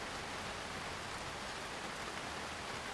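Rain falls in a steady, soft, even hiss, faint and continuous, with no voices.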